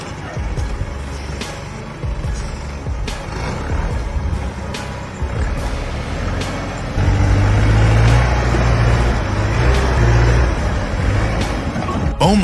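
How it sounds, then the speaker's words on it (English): Heavy timber truck hauling long logs up a slope under a strained load, a loud continuous engine drone that deepens and swells in the second half, with rumble and clatter throughout. "A timber truck hauling long logs up a slope struggles under the heavy load"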